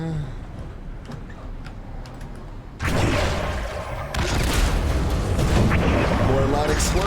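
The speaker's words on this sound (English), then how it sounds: "more loud explosions again." Loud explosions in the video game Soma: a quiet, ticking stretch gives way to a sudden booming blast, then a second heavier rumble that keeps going, with talking over it.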